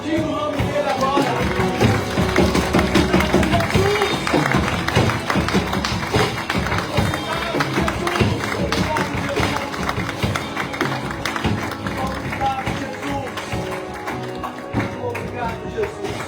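A church congregation claps in worship during a Pentecost Sunday celebration service, with steady, dense clapping blended into loud, continuous music throughout.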